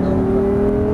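A car accelerates hard during a driving exercise, its engine holding a steady, close, loud drone for a brief moment.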